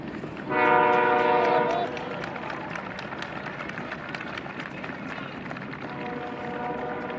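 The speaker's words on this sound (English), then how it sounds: "That's the train" A train horn sounds loud and sustained for just over a second near the start, then a passing train rumbles steadily, with another softer horn blast near the end.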